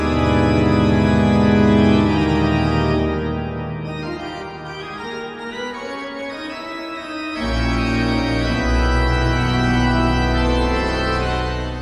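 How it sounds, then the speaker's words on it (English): Full church organ sounding sustained, dissonant diminished chords from Bach's Great Fantasia and Fugue BWV 542, loud and resonant, with a softer, thinner passage in the middle before a heavy full-bass chord returns and rings on. "diminished chords played on a church organ with a pretty full organ sound"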